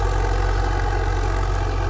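A tractor engine drones steadily and loudly while sowing wheat with a 9-foot implement in a field, a constant low rumble with no pauses and no voices.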